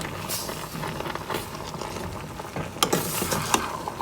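Zucchini apple pie filling thickened with cornstarch cooks down in a pan, with a soft bubbling sizzle and occasional stirring scrapes, close and even, with no voices.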